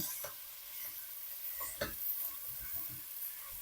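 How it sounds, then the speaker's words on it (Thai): Pork stir-fried with curry paste in a pan for a Thai jungle curry gives a brief, moderate sizzle with a few stirring scrapes and clacks nearby. "ผัดร่วมกับพริกแกงไปเลยนะครับ"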